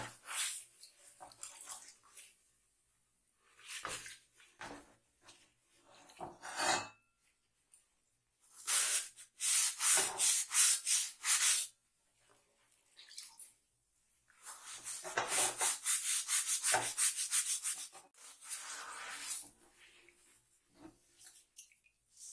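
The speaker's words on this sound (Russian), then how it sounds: "Беру губку и вуаля! С казанка ржавчина смывается точно так же," A sponge scrubs rust off a cauldron in repeated wet, rasping strokes, close up, with short pauses between bursts and no talking.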